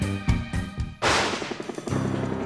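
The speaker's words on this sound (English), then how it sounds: "When the break charge explodes, it lights the effects, or stars, propelling them outward." A fireworks shell's break charge bursts with one sharp, loud blast about a second in, followed by a crackling, decaying tail, with music playing underneath throughout.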